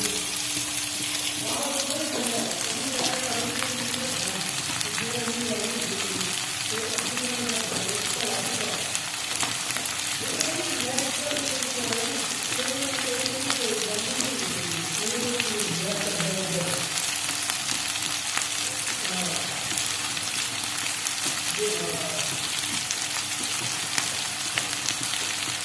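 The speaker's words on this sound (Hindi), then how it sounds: "मैंने दोबारा से फ्लेम चलाया है, चूल्हा चलाया, इसको गर्म करते हैं" Ginger egg curry reheats in a pan over a lit stove flame, giving a steady soft sizzle and bubbling hiss throughout, while someone talks over it for much of the time.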